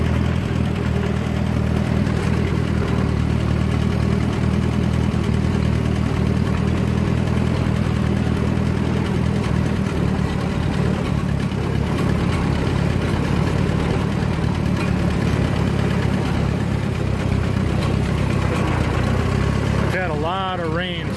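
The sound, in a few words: tractor engine running in second gear on a hill climb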